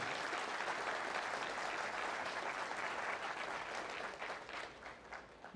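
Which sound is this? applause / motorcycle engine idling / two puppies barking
applause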